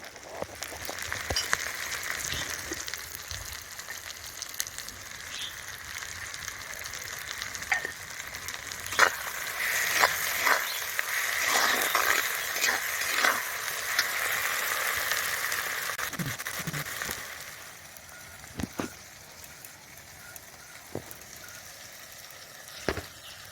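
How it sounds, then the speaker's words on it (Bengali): Fish in mustard paste with tomato frying in a pan, a long continuous sizzle with intermittent stirring scrapes, louder in the middle and then dropping to a quieter simmer near the end. "দিয়ে ভালো করে নেড়ে একটুখানি ভেজে নেব"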